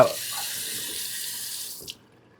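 A bathroom tap runs in a steady, close hiss as a Philips Norelco Pro 7000 head shaver is wetted under it, then the flow shuts off abruptly near the end, leaving silence.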